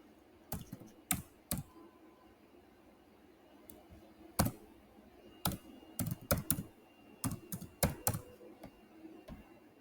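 Typing on a computer keyboard in irregular bursts of crisp key clicks with short pauses between them, close and fairly quiet, with no talking.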